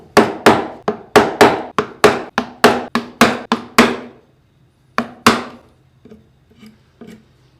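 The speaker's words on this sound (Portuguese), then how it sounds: "você bate para que ele corte essa parte que levantou" Mallet blows on a chisel carving wood: a rapid series of about a dozen sharp, loud knocks, a short pause, then two more strikes and a few fainter taps, close and with no talk.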